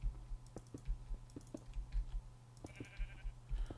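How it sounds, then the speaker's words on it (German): A Minecraft sheep gives one short synthetic bleat partway through, over a low steady hum and a running patter of keyboard and mouse clicks. "Ein Schaf."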